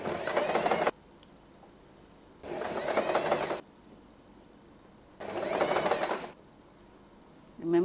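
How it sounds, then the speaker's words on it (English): A sewing machine stitches a fabric ruffle for a headband in three rapid whirring bursts of about a second each, separated by quiet pauses, close and fairly loud. "just push this and continue sewing"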